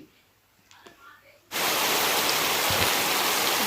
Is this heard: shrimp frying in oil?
no